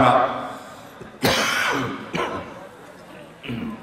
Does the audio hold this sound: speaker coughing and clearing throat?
yes